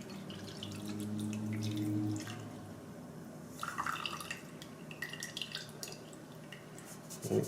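A custard mixture for strawberry ice cream is poured through a small strainer, making a soft, steady trickle of liquid with light drips and splashes close by.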